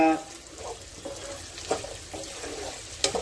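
Onions sautéing in a pan for shark fish gravy give a soft continuous sizzle, broken by a few sharp stirring clicks and scrapes, close and moderately quiet with no talking over it.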